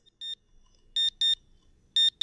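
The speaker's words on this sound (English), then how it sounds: "Her alarm goes off." An electronic alarm beeps in short, high-pitched bursts: one beep, then two pairs in a steady pattern, close and clear with no talking.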